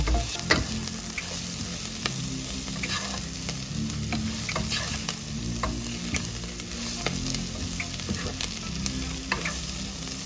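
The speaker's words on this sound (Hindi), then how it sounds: "अब हम इसमें डाल देंगे नमक स्वादानुसार, टर्मरिक पाउडर, अच्छे से मिक्स कर लेंगे।" Okra and onions with salt and turmeric stirred in a hot pan, a continuous loud sizzle with repeated spoon taps and scrapes against the pan, close up and without speech.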